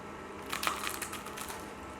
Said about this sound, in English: outside the batter is very crunchy